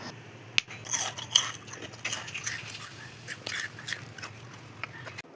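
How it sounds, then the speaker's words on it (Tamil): Crispy fried rice vadam (arisi vathal) being crunched: soft, close, irregular crackly bites that repeat quietly over a faint steady background. "நல்லா கிறிஸ்பியாக அந்த சவுண்ட்லேயே உங்களுக்கு தெரியும்"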